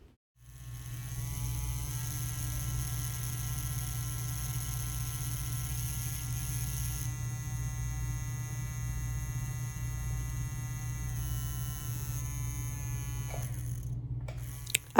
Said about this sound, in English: you'll be able to hear how the Favvosee cartridges sound running in the Favvosee machine